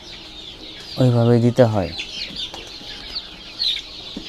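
Desi hens kept for egg laying cluck on a farm, a couple of close, loud bursts standing out over a soft background hiss while a person speaks briefly.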